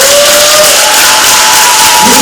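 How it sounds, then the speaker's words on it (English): An audience applauds award winners at an Early Head Start program event, a dense, loud, even wash of clapping and cheering that holds steady from start to finish. "So let's clap for all our winners tonight."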